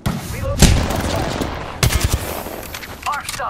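Rapid gunfire in Apex Legends: a sharp burst, then a longer cluster of automatic shots amid a busy combat din, with a brief game voice line near the end.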